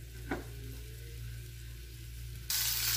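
Spicy fish frying in a pan, a steady soft sizzle over a low hum with one brief clink early on and a brighter burst of hissing near the end.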